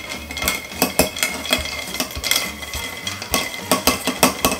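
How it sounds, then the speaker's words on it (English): A Manhattan-style cocktail stirred with ice, the bar spoon clinking rhythmically against the glass and ice in quick, repeated taps, close and fairly loud with no talking. "Give it a little stir."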